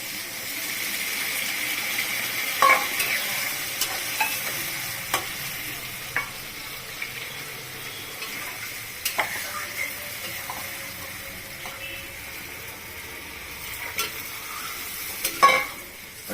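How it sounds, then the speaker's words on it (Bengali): Soaked soybean chunks fry in a spiced masala for a soybean and potato curry, giving a steady close sizzle punctuated by repeated metallic clinks and scrapes of stirring, with no talk. "এখন আমি সয়াবিনটা যে ভিজিয়ে রেখেছি ভেজে ওটা আমি দিয়ে দিই"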